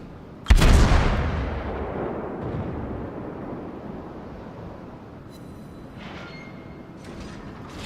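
A naval gun salvo from the Soviet cruiser Budyonny in World of Warships booms once, loud and close, then rumbles and fades over several seconds, with faint distant shots following.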